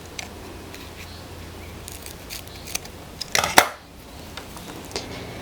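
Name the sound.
scissors cutting nylon string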